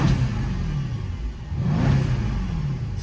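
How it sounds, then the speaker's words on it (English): A warmed-up Mercedes CLS63 with a GCA performance valved exhaust idles and then revs up twice, rising and falling in pitch, close and loud with no talking. "Let's give it a few revs."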